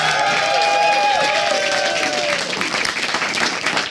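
A crowd at the IEM Cologne StarCraft 2 grand final applauds loudly and steadily, with dense clapping and some cheering that fades slightly toward the end. A voice speaks over the clapping.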